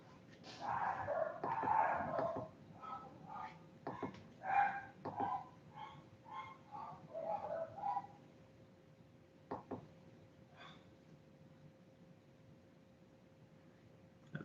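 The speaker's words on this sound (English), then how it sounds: "Who's barking downstairs?" A dog barks repeatedly in quick bursts for several seconds, then a couple of isolated barks follow before it goes quiet; the sound is somewhat distant.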